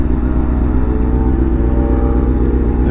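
A Mazda Miata car passing close on a windy road, its engine a steady mid-pitched rumble that holds loud and even throughout, with no speech.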